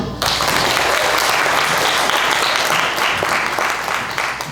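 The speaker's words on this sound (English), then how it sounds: "So let's clap it up for everyone in this room." A room full of summit attendees breaks into thick, continuous applause that starts abruptly and stays loud and even throughout.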